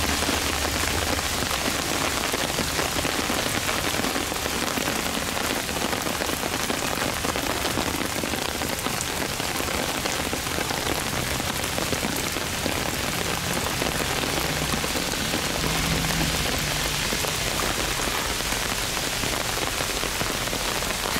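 Heavy rain pours steadily outdoors, a dense, even hiss of drops on surfaces that continues unbroken and fairly close, with no voices.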